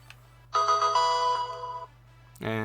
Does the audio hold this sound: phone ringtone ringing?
yes